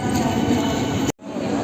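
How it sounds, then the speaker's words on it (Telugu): A Kacheguda-bound train moving through a station, a dense continuous rumble and rolling clatter at close range that briefly cuts out before resuming, with voices present. "మేము ఎక్కపోయే కాచిగూడ ట్రైన్ వచ్చేసి ఇదే గాయస్"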